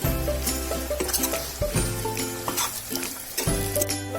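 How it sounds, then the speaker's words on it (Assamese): Duck meat and potatoes frying in oil in a home kitchen, a close, busy sizzle broken by scraping strokes of a spatula and a low hum in the background. "এইখিনি অকণমান মই ভাজি আছোঁ"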